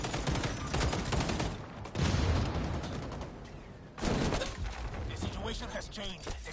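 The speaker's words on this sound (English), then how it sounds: "Jeez, there's so many grenades going off." Rapid gunfire and heavy explosive bursts from many grenades going off in the shooter game xDefiant during a contested capture-zone match, loud and dense, with sharp blasts near two and four seconds.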